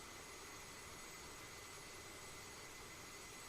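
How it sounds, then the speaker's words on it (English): A jet airliner in a flight simulator game comes in to land at SFO with flaps at 45, producing a steady, broad engine roar that holds constant and moderately loud throughout. "Coming in for landing, flaps 45."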